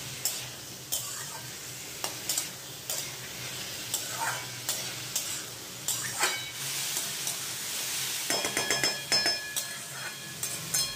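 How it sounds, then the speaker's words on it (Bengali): Papaya, onion, green chillies and masoor dal are stirred together in a pan, with repeated scraping and clinking strokes over a soft, steady sizzle throughout, close and moderately loud, no talking. "এবারে সমস্ত কিছুকে একসাথে খুব সুন্দর করে একটু ঘোটানাটা করে মিশিয়ে নেব"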